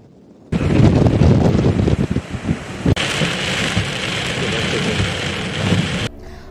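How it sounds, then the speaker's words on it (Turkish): Strong storm wind roars on the Kemer coast with heavy surf and giant waves crashing, a loud continuous rushing blast with microphone buffeting that cuts off abruptly near the end. "Ayrıca şiddetli fırtına nedeniyle Kemer ilçesinde de dev dalgalar oluştu."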